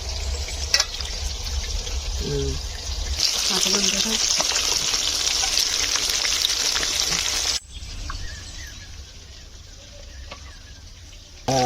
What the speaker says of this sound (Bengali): আমার এই মাছ ভাজা হয়ে গেছে কমপ্লিট হয়ে গেছে